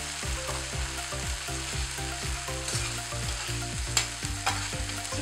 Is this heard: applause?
no